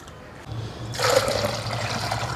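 Water gushes and splashes into a bucket, starting softly and then pouring more strongly for a couple of seconds, close by.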